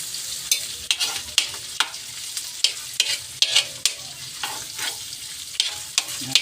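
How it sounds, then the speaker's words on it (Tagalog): Pancit guisado noodles stir-frying in a pan, a steady sizzle broken by repeated sharp scrapes and clacks of a utensil stirring at an uneven rhythm, close and fairly loud. "ngayon nagluluto naman tayo na pansit"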